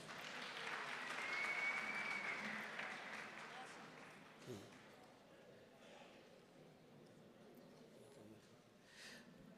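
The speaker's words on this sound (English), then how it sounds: "Give her a round of applause." Faint applause at a school governing body community meeting rises briefly, then thins out and fades over several seconds, leaving quiet room noise with a few soft knocks and distant voices.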